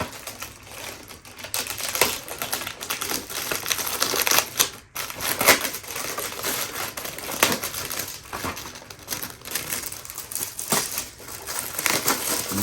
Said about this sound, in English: So I'm gonna go ahead and rip this open so we can actually get to the character.